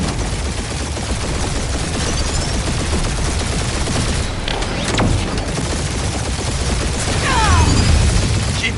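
A gunfire barrage in a PS4 video game is a dense, continuous roar of rapid shots and blasts that runs loud and unbroken throughout, with no voices.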